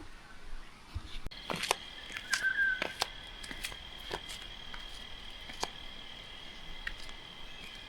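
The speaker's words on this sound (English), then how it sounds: "There's a lot of birds around, and you can hear the creek running right there" Birds call and a creek flows at a bush campsite in Kwiambal National Park, New South Wales: faint, scattered chirps sit over a soft, steady water hiss and a thin, sustained high tone.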